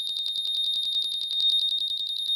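Honda PCX 160 scooter with a keyless system sounds its alarm: a loud, rapid pulsing electronic beep repeating steadily and close by throughout, with no voices.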